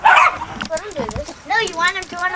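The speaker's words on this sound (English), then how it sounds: "He's a little puppy." A young puppy yips and makes small barking and whimpering sounds up close, mixed in with people talking.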